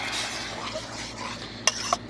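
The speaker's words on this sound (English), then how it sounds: "we are going to go ahead and add in our little bit of hot chocolate mix here. We're going to stir it up." A spoon stirring hot chocolate mix into boiling water in a pot on a SilverFire Scout camp stove outdoors, with soft scraping swirls followed by two sharp metallic clinks near the end.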